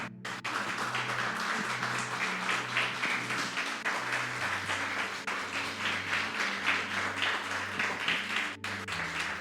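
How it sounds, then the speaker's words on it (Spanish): A standing congregation at a Spanish-language church service claps loudly together, a dense, sustained applause that runs for several seconds over low, held tones, fairly close and steady with no clear speech. "Demos un fuerte aplauso a nuestro Señor."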